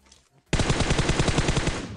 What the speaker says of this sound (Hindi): अब इन बंदों पर मैं फायरिंग तो करता हूँ